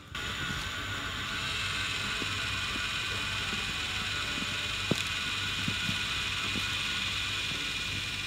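A smart thermostatic radiator valve head's small motor whirs steadily at close range as it closes the valve on an old cast-iron radiator, with faint mechanical ticks and clicks.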